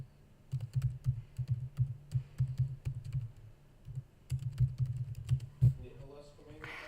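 Rapid bursts of typing on a computer keyboard during a Java programming lecture, clicks clustered in quick runs with short pauses, fairly close and moderately loud, with a brief voice near the end.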